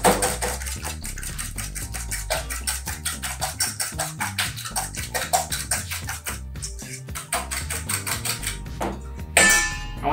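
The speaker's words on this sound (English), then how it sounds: "I'm just gonna whisk that with a fork." A fork whisking egg wash in a bowl, rapid rhythmic clinking taps against the dish, close and steady, ending with a brief rattle.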